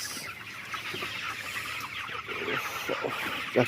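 Chickens on a poultry farm cluck and squawk in cold weather, a steady murmur of many birds with scattered louder clucks and a sharp squawk near the end.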